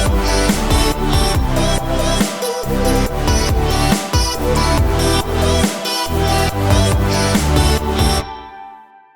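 An electronic dance music drop made in GarageBand on iPad or iPhone plays loud and dense, with a pumping beat, brief bass dropouts and layered synths, cutting off abruptly near the end.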